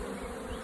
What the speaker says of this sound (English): it's causing the buzzing sound in my yard to increase